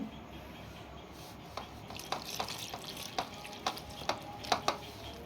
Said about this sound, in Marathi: थोडं थोडं पाणी टाकून आपल्याला ही कणिक छान मळून घ्यायची आहे